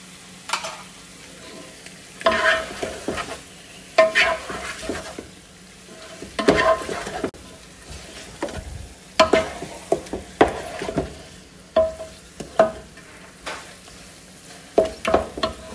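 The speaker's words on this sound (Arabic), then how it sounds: "نقلب الدياي، بسم الله، بضيف الملح" Chicken being stirred as it fries in a pot for kabsa, a red rice dish: scraping spoon strokes and clattering against the metal come in irregular bursts over a steady, close sizzle, with no talking.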